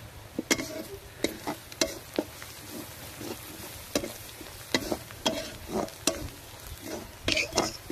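Salt, turmeric and chili powder fry with onion and green chili in a pan, a steady sizzle punctuated by rhythmic sharp scrapes and taps of a spatula, close by.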